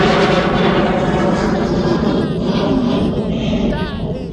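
A Jet2.com airliner taxiing out at East Midlands Airport produces a steady, loud engine roar with a whining hum. Someone talks over the noise the whole time.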